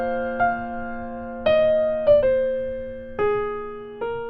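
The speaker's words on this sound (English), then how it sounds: "That is the sound of the bagpipes." Bagpipes play a Scottish lullaby, a steady reedy drone beneath a chanter melody that steps through several sustained notes with sharp grace-note attacks, close and clear with no talk.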